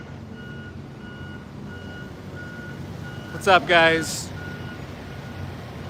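A cattle truck idles with a low engine rumble while its reversing alarm repeats evenly spaced beeps. A voice briefly speaks over the scene.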